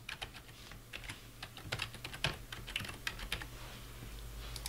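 Fingers type a username and email address on a computer keyboard: quick, irregular bursts of soft clicking keystrokes, close and faint, with no talk.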